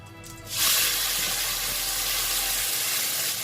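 A loud sudden sizzle erupts as masala paste hits hot oil in a kadai, then a steady crackling hiss continues close by without any talking.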